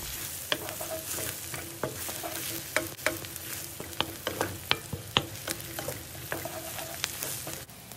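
Crushed pepper, turmeric and a dash of sugar stirred in a pan, a soft continuous sizzle punctuated by many sharp taps and scrapes of the utensil, near and quiet.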